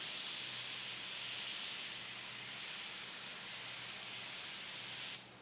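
Red spray paint hisses from an aerosol can in one long, steady burst lasting about five seconds, close and even before cutting off abruptly.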